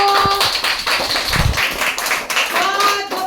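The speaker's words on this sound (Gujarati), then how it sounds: "તાળી પાડો" Children clapping together at a school storytelling performance, a few broadband bursts of applause heard among voices and tonal sounds, moderately loud and close.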